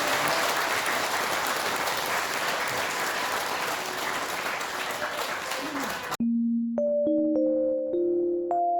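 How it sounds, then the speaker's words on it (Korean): A crowd claps steadily for about six seconds at a Buddhist temple New Year ceremony, then the applause cuts off into a few clean electronic tones. "큰 박수로 부탁드립니다"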